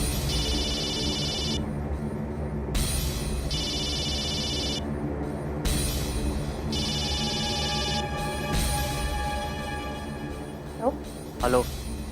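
A mobile phone rings in repeated electronic bursts, each a couple of seconds long and separated by short gaps, over a steady background hum, with a brief chirp near the end.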